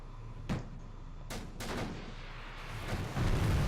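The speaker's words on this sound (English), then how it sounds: "Oops, somebody fired torps. I heard the noises." Torpedoes launch from a warship in the naval game Victory at Sea Pacific: a few sharp, booming bursts, then a heavier rolling rumble that swells toward the end, with no talking.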